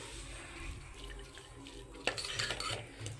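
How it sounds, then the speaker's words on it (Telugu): A spoon stirs and mixes a broccoli and cabbage side dish with lentils and peanut powder, soft scraping and light clinks against the pan, faint and close. "వేసి దీన్నంతా బాగా మిక్స్ చేసుకుంటే సరిపోతుందండి"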